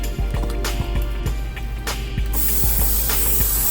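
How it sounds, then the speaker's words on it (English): A steady hiss of aerosol cooking spray onto a hot waffle iron, with a louder burst near the end, over a low background hum. "I'm going to spray it with some Pam."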